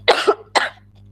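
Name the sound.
cough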